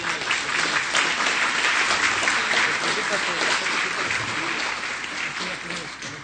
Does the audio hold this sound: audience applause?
yes